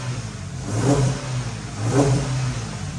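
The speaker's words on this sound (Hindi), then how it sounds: "अब देखो मैं तुम्हें एक्सेलेरेशन सुनाता हूँ" A Maruti Jimny 5-door with a modified setup revs hard under acceleration. The engine note climbs in two loud surges around a steady mid-range drone, close to the car and with no voices.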